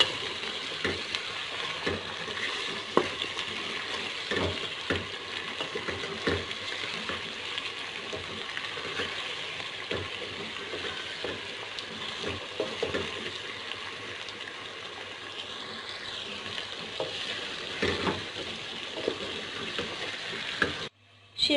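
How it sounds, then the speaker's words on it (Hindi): Green chicken karahi is stir-fried in a pan, giving a continuous sizzle with repeated scraping stirs, close and steady throughout, with no talking. "तकरीबन 5 मिनट हमने इसको बहुत ही अच्छे तरीके से भूनना है।"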